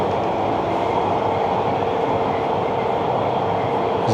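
Subway train riding between Kennedy and Bloor-Yonge stations, a steady loud rumble with rail clatter and broadband roar throughout, no talking.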